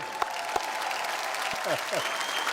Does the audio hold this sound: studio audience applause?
yes